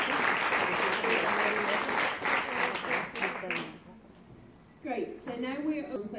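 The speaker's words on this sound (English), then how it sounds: "I think this is really worth a big applause for the committee." Audience applause at a conference session, a dense wash of many hands clapping that fades out midway, with a voice speaking over it.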